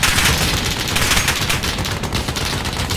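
Gunfire in the video game Modern Warfare: continuous loud, dense volleys of rapid shots that overlap into a constant rattling barrage throughout.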